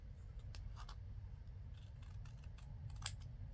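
Scissors snip through a paper file folder insert, giving a series of faint, crisp cutting clicks at uneven intervals over a low steady background hum.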